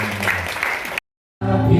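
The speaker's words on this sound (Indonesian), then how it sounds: "Tepuk tangan untuk Tuhan Yesus." Church congregation applauding during a Pentecostal Sunday service in Surabaya, a dense broadband clatter of hands with a low musical hum underneath, cutting off abruptly into a short silence before resuming loudly.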